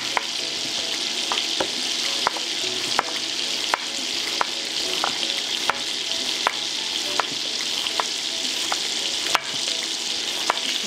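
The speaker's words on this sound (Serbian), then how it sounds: "Dok se piletina prži" Chicken sizzles and crackles in a frying pan, a loud, steady hiss with sharp pops scattered regularly throughout and no talking.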